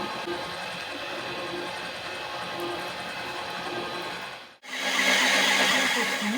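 A kneading machine churns beignet dough with a steady motor whir and rumble that stops abruptly, then restarts louder and brighter after a brief gap, close and continuous.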